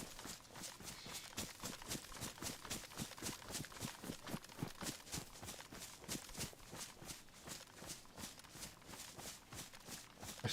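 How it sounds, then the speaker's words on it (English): Rapid, evenly spaced footsteps running across ground in DayZ, a steady close rhythm of crisp impacts lasting throughout, with no talking over them. "I swear I heard footsteps"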